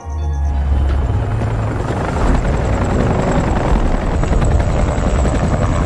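A helicopter in an action film flies close and loud, its rotor thumping in a steady beat under a broad engine whine that holds for several seconds with no talk.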